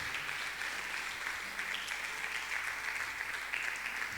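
Church congregation applauding during a sermon, a continuous hiss of many hands clapping at a distance, fairly faint and without clear speech.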